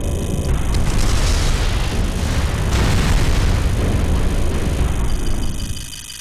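Computer systems blow up in the Armored Core Nexus mech game, a loud sustained roar of explosions with rumbling booms that rise and fall before fading near the end.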